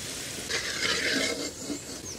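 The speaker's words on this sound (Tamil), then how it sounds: "3 பெரிய வெங்காயம் நல்லா பொடியாக கட் பண்ணி வச்சுருக்குங்க. நீல வாக்கில் நல்லா வதக்கி விடுவோங்க." Finely chopped onions are sautéed in a pan, a short, soft sizzle and stirring scrape heard close by with no voices.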